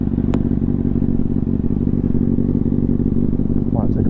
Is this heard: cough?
no